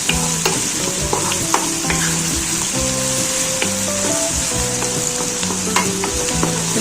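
Onions sautéed in a pan for chutney give off a steady, loud sizzle, with frequent scraping stirs of a spoon against the pan and no talking.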